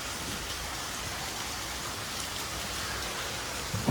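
Steady early-monsoon rain falling in Kerala, a dense, even hiss of drops on surfaces throughout, moderately loud and close, with no voices.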